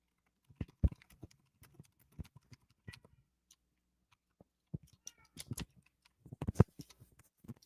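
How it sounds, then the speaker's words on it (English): A cat meowing downstairs, faint and distant, heard as scattered soft calls among clicks and taps that sound like nearby keyboard typing in a quiet room. "He's meowing downstairs."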